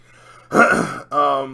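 A person with a lingering convention cold clears their throat with two short, rough, close bursts, a brief pause between them.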